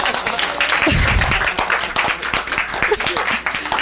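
A church congregation applauds with steady, dense clapping throughout, loud and close, with a voice briefly audible over it.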